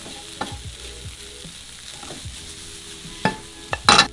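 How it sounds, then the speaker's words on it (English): Tomato paste and pepper are stirred in a frying pan, with a soft steady sizzle and scraping throughout and a few louder clatters of utensil against the pan near the end. "Stir, stir, stir."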